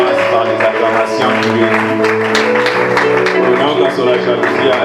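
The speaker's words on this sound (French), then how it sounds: "Honorer sa grâce par des acclamations." A church congregation applauds and shouts acclamations in praise, a dense, loud, sustained wash of clapping and voices filling the room for several seconds.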